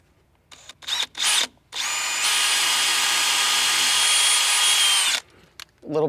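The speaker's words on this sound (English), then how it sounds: "we're going to drill through the transom and run the wire through the transom" A power drill bores through the transom of a skiff, whining steadily at high pitch for about three seconds after a few short starting bursts, close and loud.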